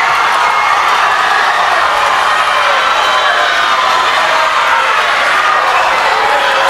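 A loud home crowd in a school gym roars continuously for a Holmen wrestler at a high school wrestling dual against Tomah, with yelling and cheering blending into a dense, unbroken wall of noise.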